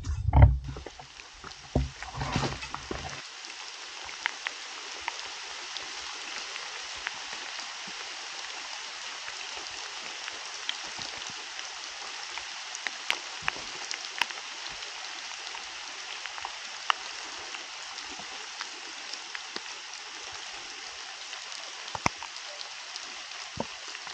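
Heavy rain pours down in dense, muddy forest as a steady, dense hiss that lasts throughout. A few louder thumps come near the start, and scattered drips and patters sound over the roar.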